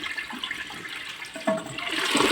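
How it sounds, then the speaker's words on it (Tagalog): A toilet flushing close by during a repair, the water rushing loudly throughout and growing stronger toward the end, with no talk. "Ayan, ipa-flash ko na."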